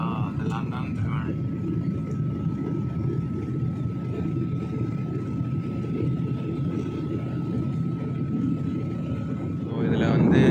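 Steady, loud, low rumbling drone inside a Malaysia Airlines passenger cabin in flight, continuous throughout with a faint tonal hum and brief voices at the start and end.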